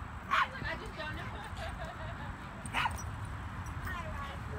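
Small dogs at a busy Tampa dog park, likely Schnauzers, give a couple of short yips and whimpers, one early and one near the middle, over steady crowd chatter and outdoor ambience.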